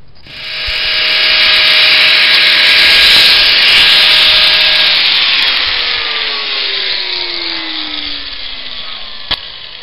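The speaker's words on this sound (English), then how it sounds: "I'm just going to cut these off to where we won't have that. And I'll use my grinder" A handheld angle grinder fitted with a cutting blade slices through the ends of an outdoor table, a loud, high whine that rises, holds for several seconds, then winds down with a falling pitch as the disc spins to a stop.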